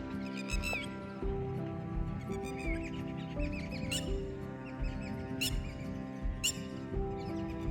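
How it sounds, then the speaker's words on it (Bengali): Many kinds of birds call around a village near Udupi: faint scattered chirps and whistles, several sharp bursts, over a steady low background hum. "কত রকমের পাখি ডাকছে দেখো,"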